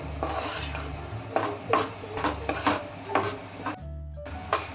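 Fenugreek leaves being sautéed in ghee in a pan for methi laddu, a spatula scraping and stirring in repeated rhythmic strokes over a low steady background hum.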